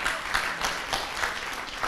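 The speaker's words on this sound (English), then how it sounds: "A hand clap." Brief hand-clap applause at a graduation ceremony in Kampala, Uganda, a soft, moderately distant patter of many hands with a loose, pulsing rhythm and no voices over it.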